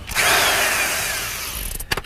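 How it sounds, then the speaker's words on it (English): A power drill cuts a quarter-inch hole into a car exhaust pipe, a loud close whining buzz that winds down near the end into a few clunks and handling knocks. "you drill a little 1/4-inch hole in the pipe"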